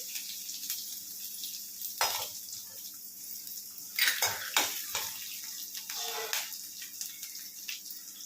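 Ginger, red chilli and coconut sautéing in a pan, a soft sizzle under clinks and scrapes of a metal spoon against the pan, close and fairly quiet, with a few sharper clatters.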